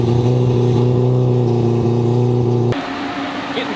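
A Mazda RX-7 with a four-rotor engine holds a loud, steady buzzing rev up close, then drops abruptly to a rougher, lower idle near the end.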